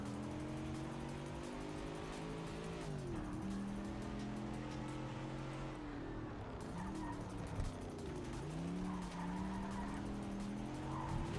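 A Mustang race car in Project CARS 3 roars through a lap, its engine note rising and falling through gear shifts, with brief tire squeals in the corners and a steady loud drone throughout.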